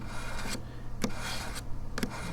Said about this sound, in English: now we'll move it over to the fine, and you can just hear it sharpening it.